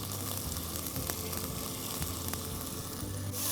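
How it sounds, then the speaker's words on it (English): Sweet corn kernels sautéing in a pan with ginger, green chili paste and salt, giving a steady, close sizzle and crackle with a few soft clicks of stirring throughout. "So now we have sauteed the corn kernels for around 2 minutes."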